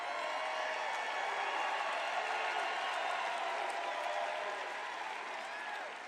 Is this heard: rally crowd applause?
yes